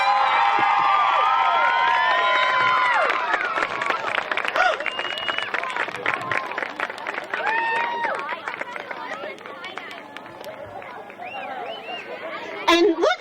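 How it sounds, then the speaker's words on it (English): A crowd at a school character kickoff event cheers and applauds for helicopter flight staff, with loud whoops and broad clapping that rise at the start, then continue as a busy, fading roar of voices and cheers. "we need to give them a huge cheer and round of applause for doing this for us today."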